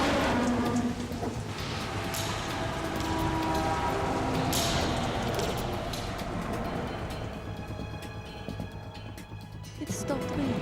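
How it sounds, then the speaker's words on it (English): Heavy rain pours in the Metal Gear Solid 2 video game, a dense continuous hiss that holds steady across the scene and thins near the end, with voices talking over it. "It stopped raining."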